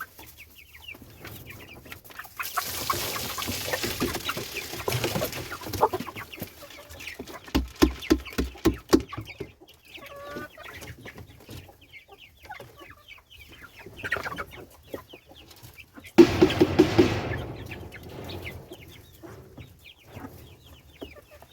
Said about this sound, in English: we're going to take one of these and tip it out and give it to the chickens and see how they enjoy it